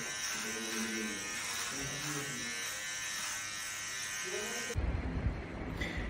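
An electric clipper buzzes steadily and close as a head is shaved before a hair transplant, with its tone shifting and a rougher, louder rasp toward the end.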